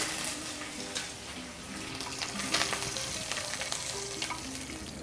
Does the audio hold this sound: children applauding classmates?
no